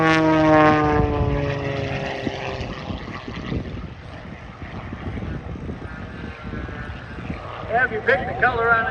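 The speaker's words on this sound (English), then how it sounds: "let's watch him start a series of rolls, and then the gyroscopic end over end tumble." A propeller aerobatic airplane performing rolls and an end-over-end tumble at the Oshkosh 2023 airshow, its engine droning and shifting in pitch, loud at first then steadier, with crowd noise and voices underneath.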